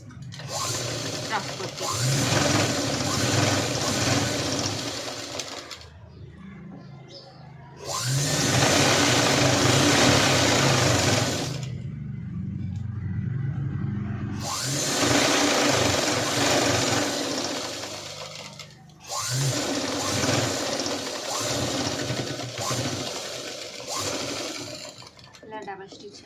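A sewing machine double-stitching pencil-cut pants runs in long, loud, steady bursts of whirring, stopping briefly between runs while a person talks in the gaps.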